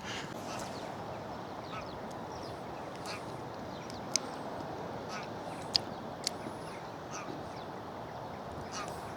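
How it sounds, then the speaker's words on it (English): Ducks quacking outdoors on a coastal walk in Scotland at a moderate distance, a few scattered calls over a constant windy background hiss. "There's a couple of noisy ducks there."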